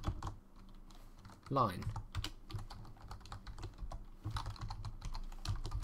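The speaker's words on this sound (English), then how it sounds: "In here I'm going to type write" Quick clicks of fingers typing C# code on a computer keyboard, an irregular run of close keystrokes with a voice briefly speaking over them.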